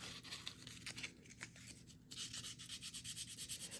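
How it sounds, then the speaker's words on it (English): Sandpaper rubbed by hand over a craft surface, a steady close scratchy rasp with repeated strokes and no talking. "It just helps if you use the right side of the sandpaper"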